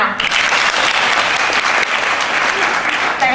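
Dense applause from a large audience, loud and steady for a few seconds, with a few faint voices mixed in.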